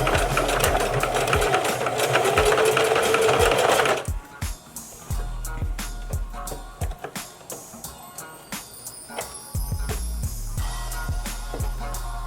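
A sewing machine stitches a bundle track onto a wig cap, first in a fast continuous run, then in short stop-start bursts of rapid mechanical needle clatter with motor hum, close and loud, no voices.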